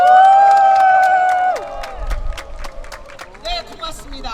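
At a Korean joint campaign rally for a Gangseo district candidate, an amplified voice trails off and a crowd breaks into scattered clapping and cheering, the claps sharp and spaced out.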